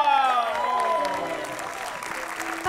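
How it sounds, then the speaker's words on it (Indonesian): A studio audience at an Indonesian comedy talk show bursts into steady applause that carries on throughout, with sustained music tones ringing underneath. "tepuk tangan dulu dong."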